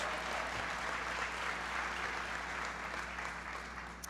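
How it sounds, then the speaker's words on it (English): Crowd applauding at a presidential speech on the economy in Asheville, North Carolina, a dense, continuous wash of clapping heard faintly and at a distance, with steady low hum underneath. "give Congressman Watt a big round of applause"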